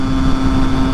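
Husqvarna SMS 125 two-stroke motorcycle fitted with a louder exhaust, a steady close engine drone holding one constant note throughout the short stretch with no talk over it.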